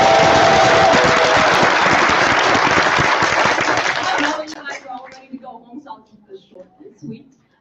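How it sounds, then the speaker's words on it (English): A crowd applauds a moderator and panel of candidates at a state house candidate forum, loud sustained clapping that stops abruptly partway through, then a voice speaking alone in the quieter room. "And then let's also give our panel of candidates over here one more round of applause."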